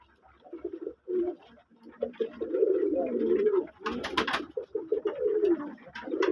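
A pet pigeon, a young red bar bird in a home loft in Manikganj, coos with its neck puffed, giving repeated low throaty rolling calls close by, with a brief flutter of wing or movement midway.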